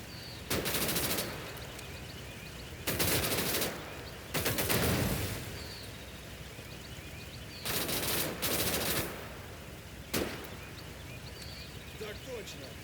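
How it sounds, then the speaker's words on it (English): Gunfire in Call to Arms: Gates of Hell comes in several loud machine-gun bursts separated by pauses, with a single shot near the end, under faint background ambience. "Stop firing, you fools."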